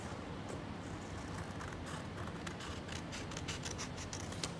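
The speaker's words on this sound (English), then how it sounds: "I've cut up and I've cut it diagonally like this." Scissors snipping diagonally through folded paper, a quiet run of short crisp cuts and rustles close by, growing denser toward the end.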